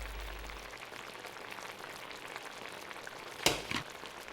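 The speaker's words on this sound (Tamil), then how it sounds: "இப்போது இதெல்லாம் நல்லா சேர்ற மாதிரி நல்லா கிளறி விடுங்க." Curd, coriander and mint are stirred together for chicken biryani, making a quiet, continuous wet scraping and churning, with a sharp clack of the spoon against the pot near the end.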